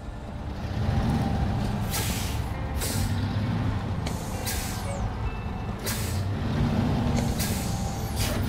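Truck in the SnowRunner video game with its handbrake released: a steady engine drone underneath repeated sharp air-brake hisses and bursts, loud and close.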